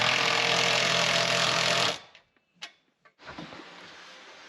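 A power drill runs at full speed for about two seconds while drilling holes for rock sliders on a Land Rover Discovery 2, then stops abruptly, followed by a few faint clicks and handling noises close by.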